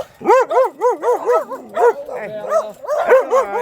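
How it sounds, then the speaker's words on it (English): Several dogs guarding a property bark and yip close by in a quick rhythmic series, with whimpering and whining between the loud barks. "Look at them beautiful dogs."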